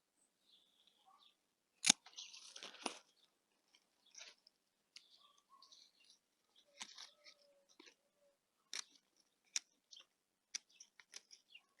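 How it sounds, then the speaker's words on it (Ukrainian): Pruning shears cut grapevine shoots and leaves in quiet, scattered sharp snips and clicks, with a cluster of rustling cuts early on and single crisp clips spaced out afterward. "ось ми зрізали пагони на певну відстань і е, зрізали, зрізали листочки"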